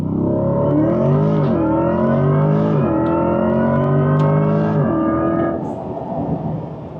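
Corvette E-Ray under hard full-throttle acceleration, a loud, close, rising engine and electric drivetrain whine that climbs through several gear steps before easing off near the end.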